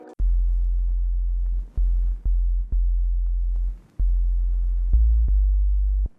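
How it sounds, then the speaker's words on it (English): A dry synth bass patch from Ableton Operator with no effects, deep sine-like tones played in short and long notes with clicky attacks, loud and alone. "this is what the bass sounds like"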